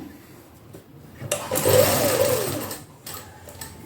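Sewing machine stitching stiff buckram interfacing onto a round neckline, a steady whirring run that swells in the middle of the stretch and then eases off, close and alone with no talk.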